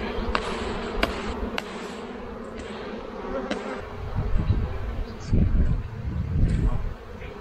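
Honeybees drone at a hive in spring while a frame is being added, a continuous close buzzing with low rustling and handling thumps that grow louder toward the end.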